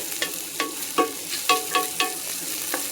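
Potatoes brown in a little oil in a pan on high heat, giving a steady close sizzle broken by regular scraping stirs about every half second.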